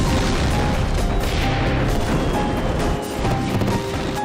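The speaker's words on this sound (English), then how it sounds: "Moments later, another explosion sends debris flying" Another blast tears through fireworks stands, a dense, loud roar of crackling, banging pyrotechnics and flying debris that keeps going without a pause.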